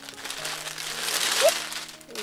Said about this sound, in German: Ich hoffe, das Rascheln ist jetzt nicht so schlimm.